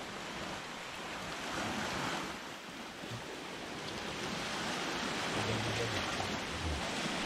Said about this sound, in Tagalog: Grabe, ulan-ulan na.